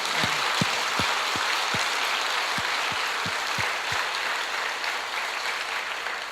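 A church congregation at an evening revival service claps together in a broad, sustained round of applause, with a few louder individual claps standing out near the front.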